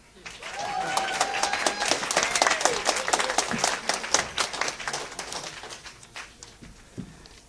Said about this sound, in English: clap her one more time